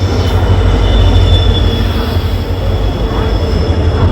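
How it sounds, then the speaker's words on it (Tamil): A Madurai-bound train arriving at a station rumbles loudly close by, a deep steady roar of wheels on rails with a faint high squeal running through it. "நம்ம ட்ரெயின் வந்துருச்சு மதுரை வண்டி"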